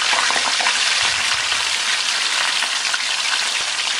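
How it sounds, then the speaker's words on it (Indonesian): Fish frying in hot oil in a wok, a loud, continuous close-up sizzle and crackle of bubbling oil with no voices. "Siapkan wajan, tambahkan minyak. Kalau sudah panas, kita masukkan ikannya."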